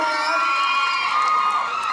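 A crowd at a mini concert at Thanya Shopping Park cheers and whoops in a short, loud, continuous burst of bright shouts.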